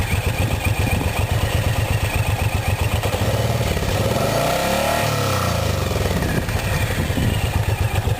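A Suzuki Boulevard C109RT cruiser motorcycle engine idles with a steady, rapid mechanical pulse and clatter, loud and close, with a brief swell in revs midway.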